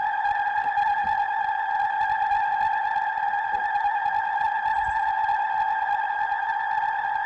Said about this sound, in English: almost sort of sounds a bit like a spring reverb or something like that.